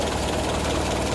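A Toyota 4K engine idles steadily at about 750 RPM, close and loud, with an even low mechanical rumble and rhythmic pulsing throughout the short stretch.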